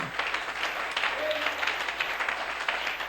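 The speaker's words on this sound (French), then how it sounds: "Une main d'acclamation pour William Marion Branham." Church congregation applauding during a French-language service, a steady wash of clapping with some voices mixed in throughout.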